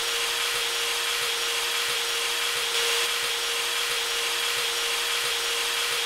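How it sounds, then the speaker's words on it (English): A drill runs during a video game heist, making a steady, unbroken whirring drone with a constant hum that stays level and loud throughout, with no talking. "That's a good place for your drill, Brendan."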